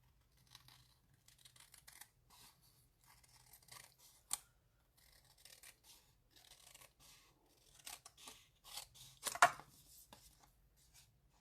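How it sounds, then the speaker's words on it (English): Paper snips trim around the edges of a handmade card, giving a quiet, irregular run of small snipping cuts up close with faint paper rustles between them. "take your paper snips and run around the edges and cut it off"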